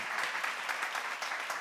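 A church congregation at a seminar breaks into steady, dense applause, many hands clapping evenly at moderate distance with no talk over it.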